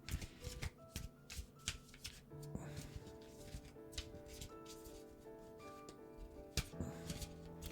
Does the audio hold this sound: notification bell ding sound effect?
no